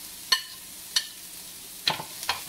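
Onion, green chili, ginger and garlic stir-fry in a pan at a street-side egg fried rice stall, with a few sharp spatula scrapes and clinks over a low, quiet sizzle.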